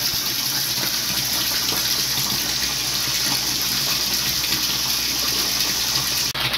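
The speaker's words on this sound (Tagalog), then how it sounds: "So nagdadagdag po tayo ng tubig until 80 cm po mga idol ang kanyang level." Water gushes steadily into a super-intensive tilapia pond from a perforated PVC pipe, a loud continuous broadband rush with no talk, ending in a brief dip near the end.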